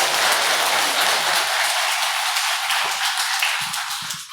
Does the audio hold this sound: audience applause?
yes